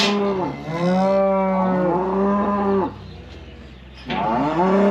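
Several loud, close moos from cattle being worked in spring pens, long drawn-out calls with rising and falling pitch, separated by a short pause of quieter farm background.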